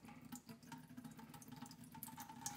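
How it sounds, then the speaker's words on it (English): Water is gently poured into a potted orchid growing in moss indoors, a soft, faint trickle with small uneven splashes and gurgles, close by and quiet, with no speech. "So I'm going to continue to gently pour the water in the plant"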